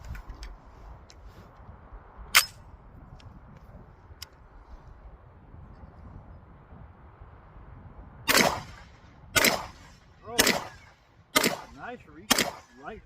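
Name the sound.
Bear Creek Arsenal .300 Blackout AR rifle firing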